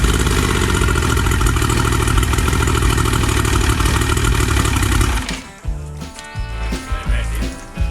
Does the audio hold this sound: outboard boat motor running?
yes